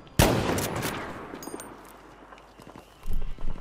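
Gunfire in the shooter game Battlefield 5 during a competitive sniper round: a sharp loud shot with a ringing decay, then scattered fainter shots and movement noise.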